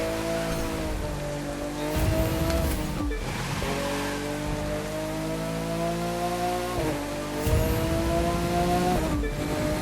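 A car races in The Crew 2, its engine droning steadily and climbing in pitch, with a few abrupt drops as it shifts gears, under a constant rushing hiss.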